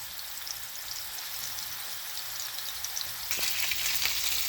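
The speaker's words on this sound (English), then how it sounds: "these babies are gonna just fry up here. And we'll let them fry for a couple of minutes" Meatballs fry in a pan with a dense, steady sizzle, close and continuous, growing a touch louder and more crackly toward the end.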